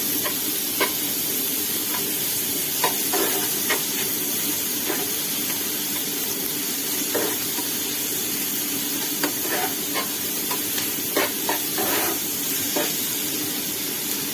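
Onions frying with two tablespoons of ginger garlic paste in a pan, a steady close sizzle broken by scattered scraping taps of stirring throughout.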